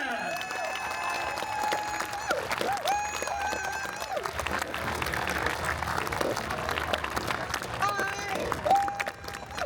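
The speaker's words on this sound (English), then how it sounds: "Keep the applause going, folks." Steady applause from a comic convention audience fills the clip, with dense clapping and crowd noise under musical tones and some voices throughout.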